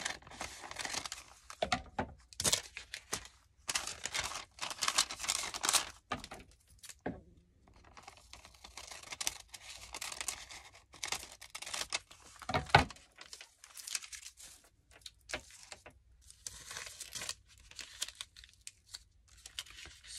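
Vellum paper being trimmed and cut in half for craft pockets, with a close run of crisp snipping, rustling and crinkling handling sounds in irregular bursts and no voices.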